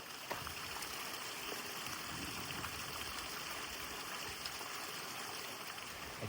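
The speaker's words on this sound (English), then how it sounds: "A great little creek, stream, whatever you want to call it, running right down the side of the hill" A small creek running down a hillside in the Ruby Mountains, a steady, soft rush and trickle of flowing water with no voices, constant and fairly faint throughout.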